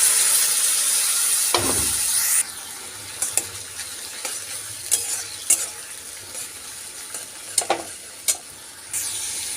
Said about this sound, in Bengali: এর মধ্যে আমি আগে থেকে বেটে রাখা সমস্ত মশলাগুলো দিয়ে দেবো